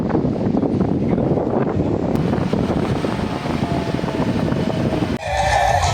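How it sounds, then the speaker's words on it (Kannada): Strong wind at Cabo de Rama beach in Goa, a constant loud rush buffeting the microphone, with rough surf conditions nearby and a brief change in tone near the end. "ಫುಲ್ ಜಾಸ್ತಿ ಗಾಳಿ ಇದೆ"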